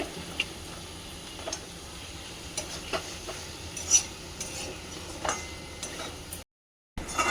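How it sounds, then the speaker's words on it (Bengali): Paneer chowmein with soy sauce and tomato ketchup is stirred in a pan, giving quiet, scattered scraping and clinking under a faint sizzle, with a brief dropout near the end. "তো এটা একটু আর একটু নাড়াচাড়া করে নেবে পনিরের সাথে ভালোভাবে মিশিয়ে নিচ্ছে"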